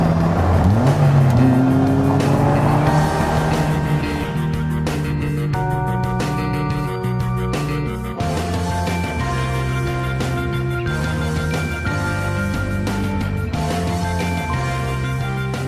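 A Slingshot three-wheeler drives on the open road, its engine rising in pitch as it accelerates, then settling into a loud, steady drone close by with no talking.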